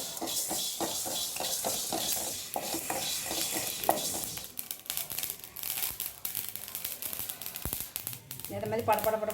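Mustard seeds and fenugreek crackle and pop as they dry-roast in a pan, a dense run of quick snapping sounds with scraping stirring, and a voice enters briefly near the end.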